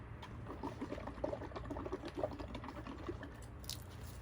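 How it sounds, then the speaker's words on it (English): Paint mixture bubbles faintly as air is blown into it and froth spills over the rim, making quiet, irregular wet pops and gurgles against a soft background. "Did you hear that? I blew some over the edge and it's on my deck."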